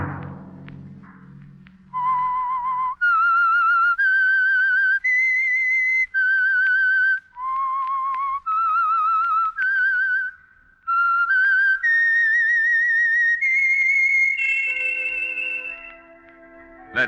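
A lone clear whistled melody, the theme of The Whistler radio program, rising in a sequence of sustained pure notes with short pauses between phrases, loud and close.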